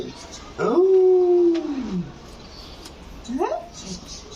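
A voice imitates an elephant call: a long wailing tone that rises then slides down, followed by a shorter rising cry.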